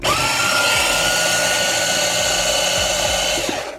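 NUNET cordless food processor chopping already sliced mushrooms, a steady, loud whirring motor hum running alone for nearly four seconds and cutting off abruptly at the end.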